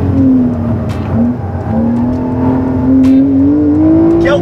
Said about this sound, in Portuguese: Ele passou a marchinha pra cima aqui.